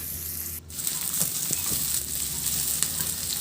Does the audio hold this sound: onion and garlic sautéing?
yes